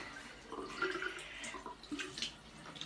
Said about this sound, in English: So I'm gonna start with washing my face.